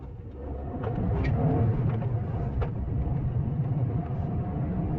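A Škoda Kushaq with a 1.0L three-cylinder engine and manual gearbox accelerates uphill in first gear. Its steady, low engine rumble holds close and fairly loud with faint road noise and no talking.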